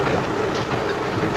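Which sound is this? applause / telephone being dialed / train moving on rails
train moving on rails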